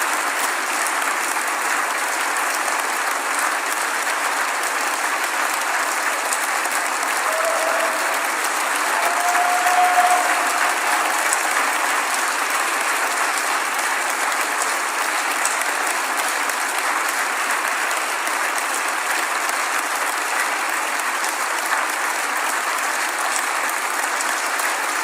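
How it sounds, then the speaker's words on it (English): Long sustained audience applause in the hall at the Nobel Peace Prize ceremony in Oslo, an even, continuous wash of many hands clapping with a slight swell midway and no talk over it. "And the applause continues."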